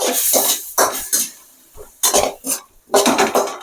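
A spoon scrapes and clatters in a pan while ginger garlic paste is sautéed for vallarai keerai soup, with short irregular bursts and brief quiet gaps between strokes.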